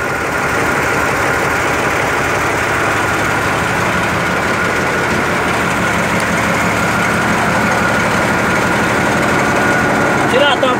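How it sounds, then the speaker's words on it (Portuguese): A homemade articulated tractor's engine runs steadily at idle, a loud continuous mechanical drone with vibration filling the whole stretch, with no talk over it. "Olha lá o motor."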